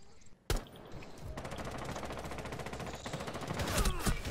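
Rapid automatic gunfire from the garage side in Rainbow Six Siege, a sharp shot near the start followed by sustained, dense bursts that grow louder toward the end.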